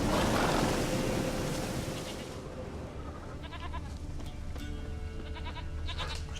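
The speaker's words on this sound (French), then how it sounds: "Je retrouve la chèvre du chaman." A goat bleats in several short, wavering cries in The Witcher 3 video game over a steady noisy background, moderately close, with a fainter voice-like tone early on.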